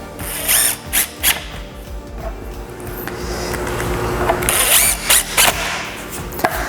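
A power drill drives screws into wood to fasten a climbing hangboard mount, with several short whirring bursts, then a longer sustained run that rises and ends in a few quick trigger pulses, all close and fairly loud.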